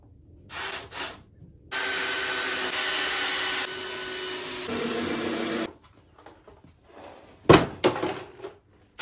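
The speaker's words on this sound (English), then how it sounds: "so I can have access to it to get my screws into it" A power drill drives screws into the wooden board of a homemade shooting bench: a few short whirring bursts, then two long, loud, steady runs with a pitch shift, followed by scattered knocks and clunks of handling.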